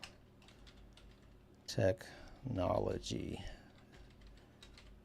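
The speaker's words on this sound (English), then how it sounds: "I'm going to start typing" Light clicking on a computer keyboard runs faintly through the background while someone speaks briefly in the foreground, with scattered soft key taps before and after his voice.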